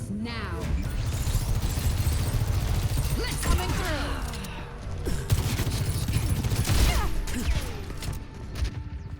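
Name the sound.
gunfire in the video game Overwatch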